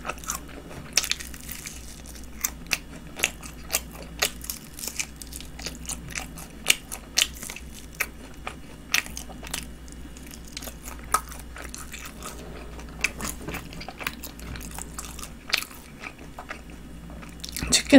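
Crunchy bites and chewing of Kyochon honey combo fried chicken, close and clear, with repeated sharp crunches in an irregular rhythm over a steady low background hum and no talking.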